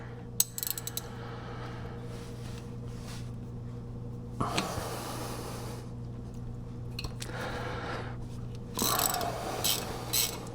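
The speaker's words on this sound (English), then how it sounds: "now we need a T30. Let's remove this Torx here." A ratchet with a T30 Torx bit works a Torx bolt loose on a 2018 Chevrolet during lower ball joint replacement, with bursts of rapid clicking over a steady hum, and scraping metallic handling in between.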